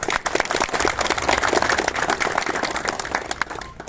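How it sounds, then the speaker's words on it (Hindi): Dense clapping from an audience at a modest farewell ceremony for a police station officer in Bundu, steady and fairly loud throughout with no break. "आप लोग दिल से ताली बजा रहे हैं"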